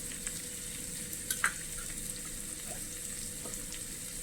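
Spiced eggplant curry with crushed onion, turmeric and chili powder sizzles steadily in a pan, a quiet even frying hiss broken by a few soft scrapes and taps of a spoon as it is stirred.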